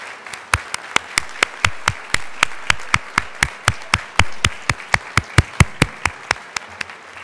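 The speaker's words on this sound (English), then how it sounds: "join me in a round of applause for all these important people who made this day possible" Applause from the audience at a University of Iowa College of Nursing commencement ceremony, with one nearby pair of hands clapping in a fast, steady rhythm over softer crowd clapping.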